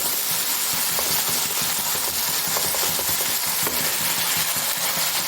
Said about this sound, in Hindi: इन्हें 2-3 सेकंड के लिए भूनेंगे।